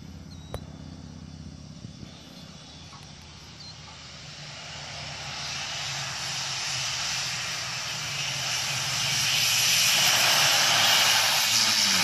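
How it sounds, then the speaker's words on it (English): A Beechcraft Duke twin-prop airplane landing, its engine drone swelling steadily louder over twelve seconds as it draws nearer, with broadband roar building toward the end and no talk. "This Beach Duke was landing when it blew a tire and went off the runway."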